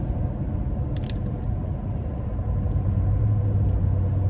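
Steady low rumble of tire and road noise inside a 2018 Ram 1500 Night Edition Hemi cruising on the interstate, moderate and constant, with a brief click partway through.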